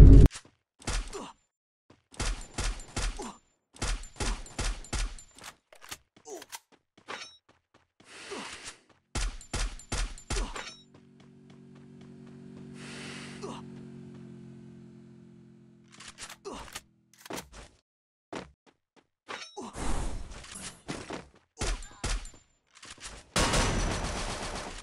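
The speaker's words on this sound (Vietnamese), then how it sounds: "cứ móc cây súng ra tha hồ mà thọc" Video game gunfire crackles in bursts of uneven rapid volleys, with a low rumbling hum in the middle, then more sharp shots, all loud and close.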